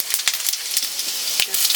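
Dried red chilies and panch phoron crackling in hot mustard oil in a wok, a close hissing sizzle with sharp pops scattered throughout.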